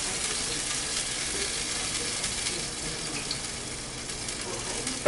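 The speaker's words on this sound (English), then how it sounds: "Now I gotta put the rice in here. In the very hot pan" Rice frying with a little oil in a very hot pan, a steady close hiss and crackle of sizzling that runs unbroken throughout with no talk.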